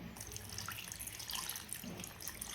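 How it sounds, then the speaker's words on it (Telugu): Water running steadily from a kitchen tap or being poured onto tamarind soaking for sambar, a continuous splashing stream heard close up with no talking. "కొద్దిగా నీళ్లు వేస్తున్నా"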